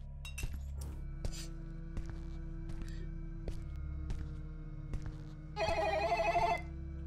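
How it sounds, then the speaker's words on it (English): An old-style bell telephone rings in The Telephone psychological horror game, a single loud trilling ring burst after a string of faint clicks and clinks over a steady low hum. "No, the phone is ringing"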